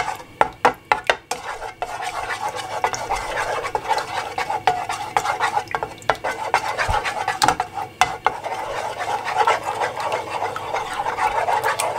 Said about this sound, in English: Don't whisk it together first, do it all in the pan.